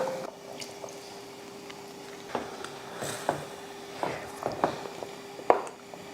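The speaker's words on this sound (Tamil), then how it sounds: "நல்லா கொதிக்க ஆரம்பிச்சிருச்சு" A pot of coconut masala curry bubbles and simmers quietly, with soft irregular pops and wet gurgles growing more frequent toward the end, heard alone at close range.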